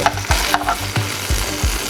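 Ingredients for claypot chicken rice pan-fry in a wok, giving a close, lively sizzle. Regular stirring strokes knock against the pan about every third of a second, and no one talks.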